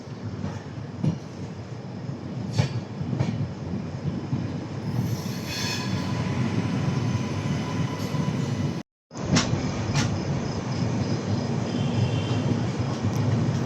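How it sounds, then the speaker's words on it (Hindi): Train pulling into platform 1 at Pratapgarh Junction, a steady loud rumble of wheels on rails with high squeals from the wheels throughout, heard close from on board with no voices. "प्रतापगढ़ के 1 नंबर प्लेटफॉर्म पे जो है लग रही है हमारी ट्रेन"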